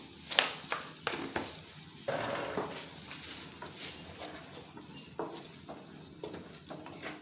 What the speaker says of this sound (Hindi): मसाले को भून लेंगे। इसके बाद हम इसको दाल में ऐड कर लेंगे।